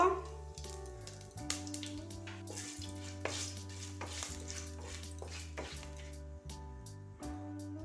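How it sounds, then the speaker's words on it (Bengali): A bay leaf, a dried red chili and five-spice (panch phoron) hit hot oil in a kadai for a pumpkin-greens masoor dal. The result is a quiet sizzle with occasional stirring clicks over a steady low hum. "দিয়ে দেবো একটা তেজপাতা, একটা শুকনো লঙ্কা, এর 5 ফোড়ন দিয়ে দেব।"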